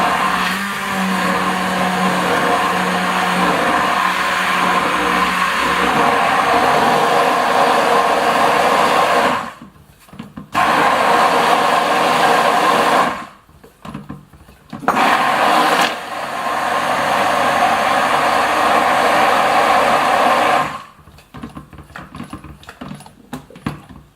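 A stick blender whirring through soap batter for handmade mother's milk soap, a steady loud motor hum that cuts off and restarts in several bursts, with short quiet gaps between runs.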